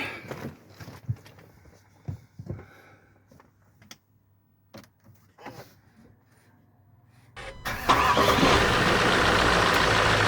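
A Range Rover engine, fresh from an alternator replacement, cranks and catches after some quiet shuffling and clicks, then runs loud and steady at a close idle.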